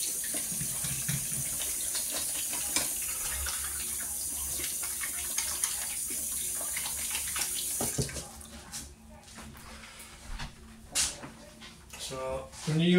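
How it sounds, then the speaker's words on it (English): Water runs steadily from a kitchen tap as hands are washed during fish preparation, then the tap shuts off partway through, leaving a quieter room with a few knocks and a voice talking. "So just bear with me while I wash my hands."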